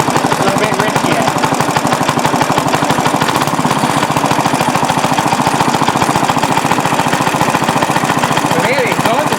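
A small Briggs & Stratton NR6 gasoline engine, running slightly rich, chugs loudly and steadily nearby, its rapid regular firing pulses running unbroken throughout.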